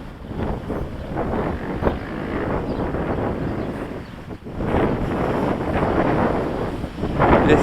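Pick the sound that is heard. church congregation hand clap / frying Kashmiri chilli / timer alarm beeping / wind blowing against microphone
wind blowing against microphone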